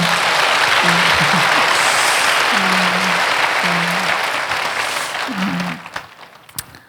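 Loud, sustained applause from a large crowd fills the room, with a few brief voices underneath, before the clapping tapers off at the end.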